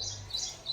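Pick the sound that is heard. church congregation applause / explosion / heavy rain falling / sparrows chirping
sparrows chirping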